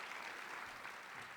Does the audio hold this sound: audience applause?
yes